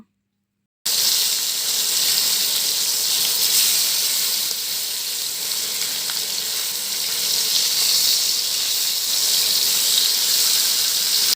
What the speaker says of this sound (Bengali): মাছগুলো এক পাশ এক পাশ করে ভেজে নেব খুব বেশিও ভাজবো না আবার খুব কমও না